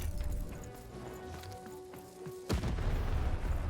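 Cannon firing in the video game Lost in Random: a sudden heavy boom cuts through a busy mix of game music and rumbling, followed by a sustained noisy roar.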